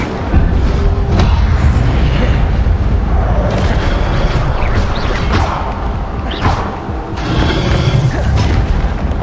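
Incendio fire spell cast in the wizarding game Hogwarts Legacy, dense whooshing bursts and thudding magical impacts over a loud rumbling combat bed.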